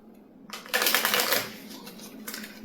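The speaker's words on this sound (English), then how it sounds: "Okay, so we'll shuffle those." A deck of game cards for Earthborne Rangers is riffle-shuffled close up, a dense papery burst lasting about a second, then fading into a few soft taps and shuffles of the cards settling.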